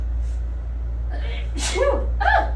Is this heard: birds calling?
no